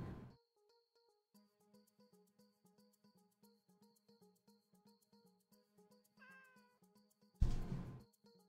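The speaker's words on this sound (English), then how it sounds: "Turn the microwave on. Burn the cat." A cat meows repeatedly inside a microwave in the video game Bad Rats, with a string of evenly spaced game meows over a steady hum, followed by a loud burst near the end.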